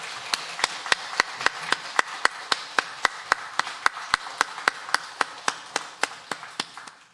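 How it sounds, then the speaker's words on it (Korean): A church congregation at a Korean Sunday worship service claps in unison, a crisp, evenly paced run of about two dozen sharp claps that stays steady before fading out at the end. "우리도 힘찬 박수로 영광 돌리겠습니다"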